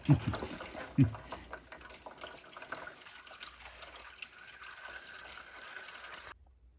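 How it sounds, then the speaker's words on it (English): Fluid draining from a 1964 Chrysler New Yorker Town and Country into a tilted pan, a steady faint trickle and splash after two knocks at the start, ending abruptly. "And tilt the pan. Hopefully we catch most of the fluid."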